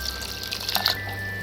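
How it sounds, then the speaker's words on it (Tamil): A cup of water is poured over jaggery in a vessel in a home kitchen, making a short, soft splash and trickle with a few drips against light background hum. "இதில் 1 கப்பு தண்ணி ஊற்றிக்கங்க."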